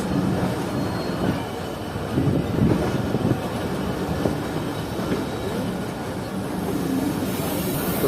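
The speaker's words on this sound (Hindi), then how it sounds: "ये ट्रेन घूम कर दोबारा आ रही है उसी पॉइंट पर जहाँ से बिल्कुल ट्रैक स्ट्रेट थे दोनों" Zikriya Express passenger train rolling along a diverted track between Karachi and Multan, heard from on board as a loud continuous rumble with rhythmic wheel clatter and occasional faint squeal, with no voices.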